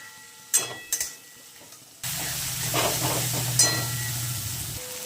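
Prawns fry in a pan with onion, dried chilli and garlic over a high gas flame; a couple of faint clicks give way to a sudden loud, steady sizzle with occasional spatters.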